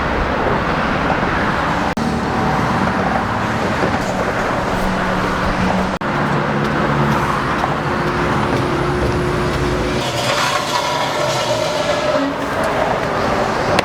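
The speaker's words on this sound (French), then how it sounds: "Il y a un vent de fou là à cause des voitures" Highway traffic rushes past on a bridge beside a bike path, a steady, loud roar of passing cars with gusting wind that never lets up.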